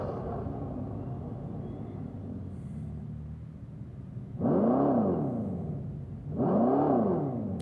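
A Dodge Charger Daytona Scat Pack EV plays its simulated engine sound: a low, steady electric-motor rumble, then two loud synthetic revs that swell and fall in pitch, each lasting about a second and a half, with no talk.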